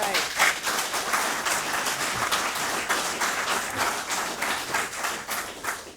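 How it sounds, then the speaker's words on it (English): Sustained applause from a room of people at a city council meeting after a vote, steady clapping that continues throughout with no break. "I appreciate the applause."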